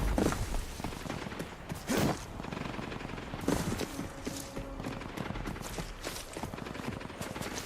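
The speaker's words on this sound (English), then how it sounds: "Who's shooting?" Gunfire in the video game Rage 2: several loud bursts of shots ring out, with rapid volleys separated by short gaps over a steady bed of game noise.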